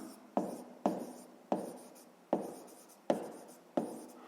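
A pen writing notes on paper for a sixth-grade maths exercise, heard as six distinct close scratchy strokes, each starting sharply and tapering off, evenly spaced at roughly half-second to one-second intervals, with no talking.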